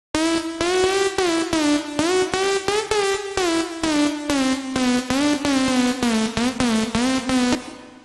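A synth melody from an LMMS track, voiced with a sound font, plays a steady run of short, evenly spaced, bright buzzy notes. Loud and alone, with no talk.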